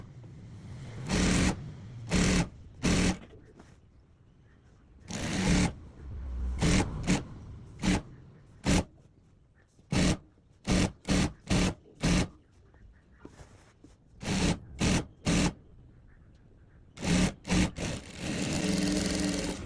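A sewing machine stitches the side seams of a gown in short bursts of rapid running, separated by brief pauses and soft handling noises, with one longer run at the end.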